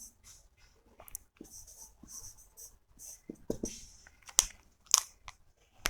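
Pen scratching on paper while a geometry problem is worked out, with short scribbling strokes, taps and pauses, close and fairly faint, with soft speech-like sounds at moments.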